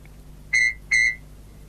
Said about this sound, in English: When you hear Thomas whistle, turn the page.